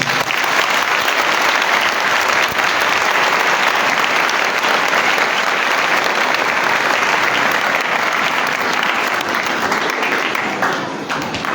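Loud, sustained applause from the audience at a Sunday Mass and Mother's Day celebration, many people clapping together for children and their teachers in a dense, continuous roar that holds for over ten seconds before easing off.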